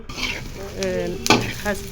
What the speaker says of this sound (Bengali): তেল দিয়ে একটা পেঁয়াজ কুচি চার পাঁচ টুকরো আদা আর আট ছয় সাতটা কাঁচামরিচ দিয়ে